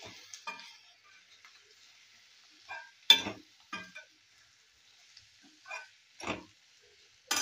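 Spiced cauliflower sabzi stirred in a pan, a spoon scraping and pushing the pieces in several short separate bursts with a light sizzle between them, close and fairly quiet.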